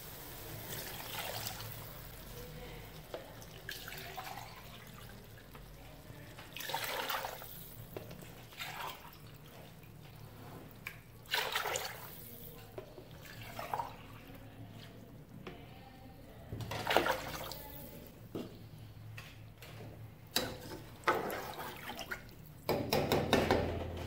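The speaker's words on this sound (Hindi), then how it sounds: "अब इसमें जाएगा पानी।" Water poured into a cooking pot holding potatoes and peas for a pulao, with soft intermittent trickling and splashing pours of moderate loudness in a quiet kitchen, no talking.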